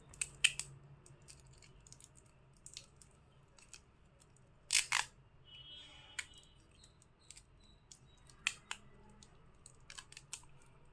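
Scissors snipping while packing small kumkum packets wrapped with green tape, a few sharp close clicks and snips scattered among quiet handling rustles, with no talk.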